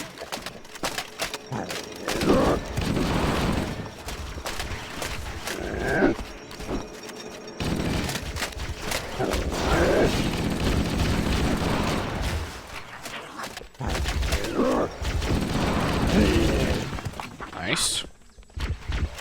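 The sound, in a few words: gunfire in the video game Halo: Combat Evolved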